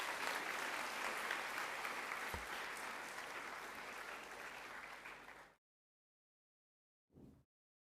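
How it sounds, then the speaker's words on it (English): A school assembly audience applauds steadily for about five and a half seconds, with dense continuous clapping that cuts off abruptly, followed by a short quieter burst of noise. "Can we please give our prefects one more round of applause?"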